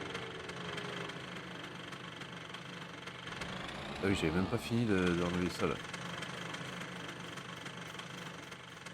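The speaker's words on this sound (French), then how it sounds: "J'ai pas coupé le moteur." A tractor engine idles in Farming Simulator 19 on an alpine map, a steady low rumble running throughout while someone talks over it partway.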